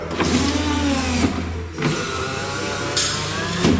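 A car power window regulator motor overdriven on 24 volts, whining loudly and alone as the glass runs quickly down and back up, with brief pauses and clunks where the motor stops and reverses.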